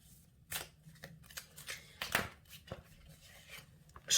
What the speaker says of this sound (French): On va les tirer 3 cartes.